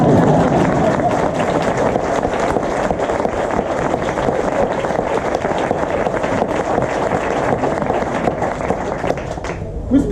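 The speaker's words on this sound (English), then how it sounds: "Okay, you can clap now." An evening audience at a Maori village applauds in a long, steady patter of many hands, with crowd murmur and voices mixed in, fading slightly at the end.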